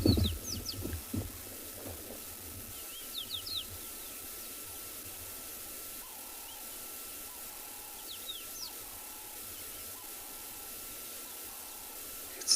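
Birds at a waterhole on a South African safari give sparse, faint chirps and whistles at a distance, scattered across a quiet, hissy background with a few low thumps near the start.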